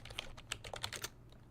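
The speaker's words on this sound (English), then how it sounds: "Y'all hear her typing?" Quick bursts of keystrokes on a computer keyboard, a rapid irregular patter of clicks lasting about a second and then trailing off, heard faintly over low background hum.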